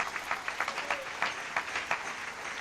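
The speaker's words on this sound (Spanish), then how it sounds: "Dale un aplauso a Jesús" A church congregation applauds together, a steady wash of clapping with light crowd noise and some voices underneath, moderately loud throughout.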